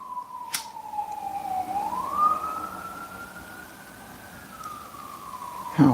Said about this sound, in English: the sirens have been insane on my lives for whatever reason